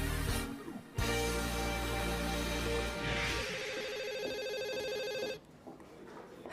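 A telephone rings with a steady electronic tone in repeated bursts, close and clear, with no voices over it.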